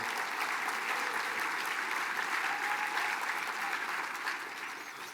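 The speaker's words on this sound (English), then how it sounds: "Let's give that a round of applause" A large audience at the Mille Lacs Band of Ojibwe 2025 State of the Band address breaks into a sustained, even round of applause, soft and steady before fading slightly at the close.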